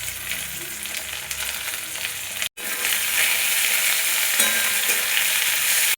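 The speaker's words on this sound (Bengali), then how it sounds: "আঁচটা উঠিয়ে পেঁয়াজটা একটু ভেজে নেব।" Onion, cauliflower, broccoli and potato fry in a pan over high heat, a steady close sizzle with stirring, cut by a brief silent break before the frying resumes at full strength.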